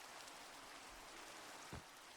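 Steady rain pattering down in the video game Opolis as night falls, a soft continuous hiss with one brief low thump near the end.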